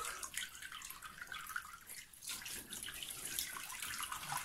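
Water pours and splashes steadily over a newborn baby in a bath, a continuous close-by trickle with no talking over it.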